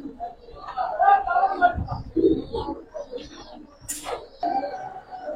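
Pigeons in a loft coo in soft, throaty bursts close by, mixed with rustling and a sharp noise partway through, while people talk alongside.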